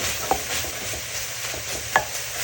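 Sausage, onion and carrots brown in a pan, giving a continuous sizzle with two sharp utensil clinks and soft stirring sounds, no talking.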